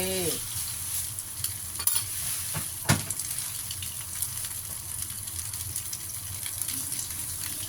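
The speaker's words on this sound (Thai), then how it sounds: "ใส่เนื้อปลาเข้าไปทอดเลยจ้า" Minced fish goes into hot oil in a pan and fries with a loud, steady sizzle and crackle, broken by a few sharp stirring scrapes and clinks, close up with no talking.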